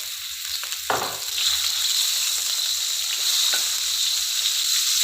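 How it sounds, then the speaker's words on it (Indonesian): Washed salted fish fries in hot oil in a pan, a loud continuous sizzle with a few brief stirring scrapes and hisses, close up and with no talking. "Nah pertama-tama saya mau goreng ikan asinnya ya."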